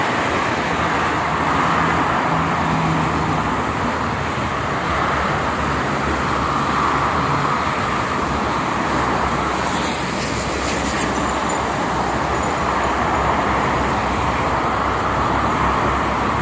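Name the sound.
traffic of private cars and tour buses on toll road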